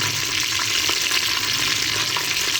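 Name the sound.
whole spices, bay leaves and star anise frying in oil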